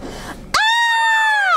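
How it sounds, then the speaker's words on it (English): A child practices screaming, letting out one sudden high-pitched, sustained scream after a brief low murmur, loud and close. "Can you practice screaming?"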